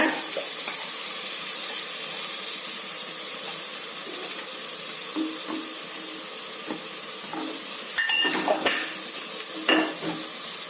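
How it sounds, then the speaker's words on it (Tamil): Chopped tomatoes sautéing with turmeric and masala in a hot pan, a steady close sizzle with scraping stirs, growing busier with clattering strokes near the end, no speech. "தக்காளி நல்லா மசிய வதங்கணும்"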